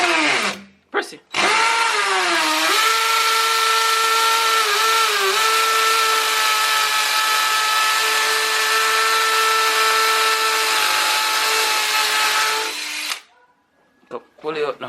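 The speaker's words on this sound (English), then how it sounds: "Push the drill forward now." An electric drill driving a screw whines steadily for about twelve seconds, its pitch dipping briefly as it bears down, with short bursts at start and end.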